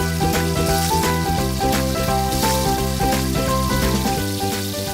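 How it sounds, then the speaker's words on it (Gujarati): Puris frying in hot oil in a kadai give a continuous crackling sizzle, close and steady, under a tonal, music-like background with no speech. "તેલ ગરમ થઈ ગયું છે તો તેમાં થોડી પૂરી નાખી દઈશું."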